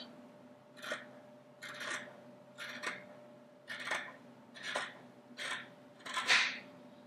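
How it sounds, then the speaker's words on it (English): Scissors trimming a fabric seam allowance for a French seam, seven or eight crisp, quiet snips spaced about a second apart, close and alone over a faint steady hum. "So I'm just going to trim this seam allowance to 1/8 of an inch"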